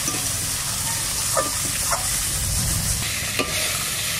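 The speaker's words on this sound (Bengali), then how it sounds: "আমার মাছ সব ভাজা হয়ে গেছে, আর কড়াইতে কটা আছে, আর এই মাছ কটা আমি দিয়ে দেবো কড়াইতে" Koi and lata fish fry in a wok with a loud, steady sizzle that lasts throughout, marked by a few light clicks of a spatula or ladle.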